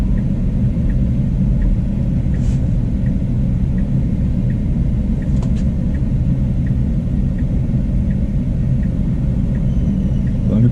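Steady low road rumble from passing cars on a San Diego street, heard from inside a vehicle running a self-driving beta, with a constant engine and tyre drone throughout and no talk.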